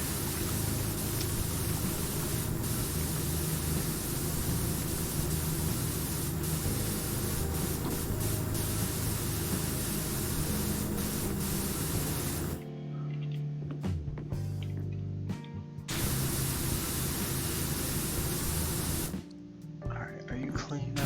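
In PowerWash Simulator, a pressure washer sprays dense, loud hissing water almost nonstop while blasting grime off a surface, with short pauses near the end and a voice talking over it.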